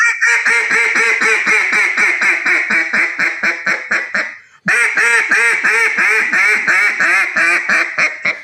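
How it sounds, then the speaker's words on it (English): A mallard hail call blown loud on a duck call: long runs of rapid, evenly spaced quacking notes, broken by one brief pause near the middle before a second run starts up. "That's a mallard hail call, right?"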